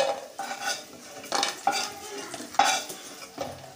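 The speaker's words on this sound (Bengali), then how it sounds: "কুমড়ো বড়ি এইভাবে ভেজে নেবেন, তাহলে খেতে ভালো লাগবে" Pumpkin bori, dried lentil dumplings, fry in a pan with a continuous sizzle. Repeated scraping and clinking of a spatula or spoon stirring against the pan break in at close range, with no talking.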